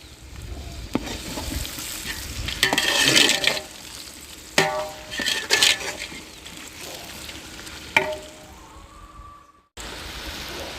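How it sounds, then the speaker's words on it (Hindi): Mutton browning in a pan sizzles and crackles steadily, with louder bursts of spatula stirring and scraping at intervals and a brief pause near the end, no voices. "मटन को तकरीबन 15 से 20 मिनट के लिए अच्छी तरह फ्राई करेंगे और मटन को ब्राउन कर लेंगे।"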